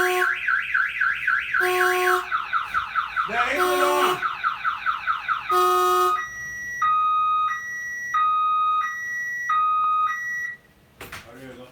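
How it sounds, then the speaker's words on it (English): A truck's car alarm blares through its repeating cycle of rising whoops, steady tones and alternating two-note beeps, loud and close, before cutting off near the end as someone speaks briefly. "Wait for the truck alarm to go off."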